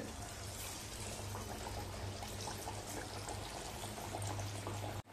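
Chana dal vadas frying in hot oil over medium heat make a dense, continuous sizzling hiss that stays loud and close throughout and cuts off abruptly at the end, with no talking.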